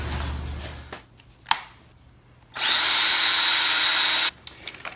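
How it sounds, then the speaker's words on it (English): A power drill drives screws into a melamine form, one short whir near the start followed by a longer steady high-pitched drilling run, close and loud, with no talking. "So I've got to run screws into 3 more holes, drill this in piece"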